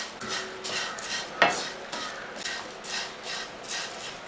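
Sesame seeds and flattened rice being stirred in a pan, with a steady gritty scraping and rustling in repeated strokes and a sharp clink of utensil against metal partway through.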